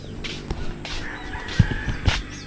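A live chicken brought to a hut to be cooked as adobo in coconut milk, giving a few short, close clucks and rustles over low background noise.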